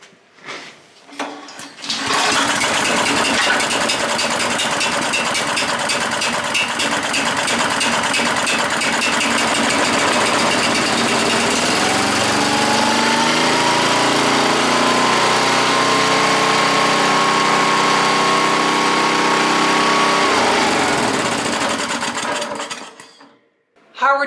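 A small auction wood chipper's engine starts, then runs loud and steady for about twenty seconds, with a rising whine settling into an even drone before it cuts off.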